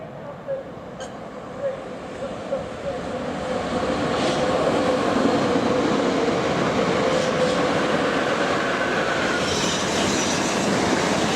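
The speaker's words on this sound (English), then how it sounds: "There's a train due shortly." A Thameslink train approaches the London end of Shortlands station, a low rolling rumble swelling steadily from faint to loud and holding steady, with rail noise and a brief squeal near the start.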